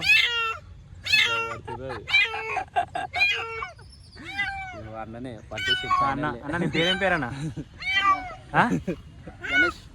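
A stray cat trapped in a well cries in repeated, drawn-out meows, loud and close, while people talk over and between the cries.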